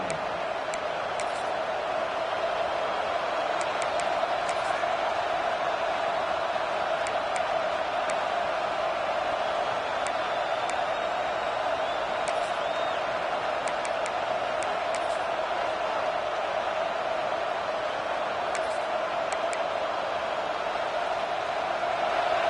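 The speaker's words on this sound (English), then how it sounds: "This crowd bringing the energy and noise early." A college football video game plays steady stadium crowd noise, a constant loud roar with no breaks while commentators talk over it.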